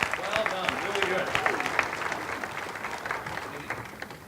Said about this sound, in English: So first, round of applause.